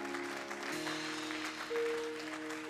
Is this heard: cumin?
no